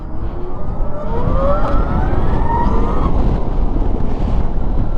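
Zero DSR/X electric motorcycle accelerating in sport mode, a rising motor whine gliding upward over steady heavy wind rush, continuous and close.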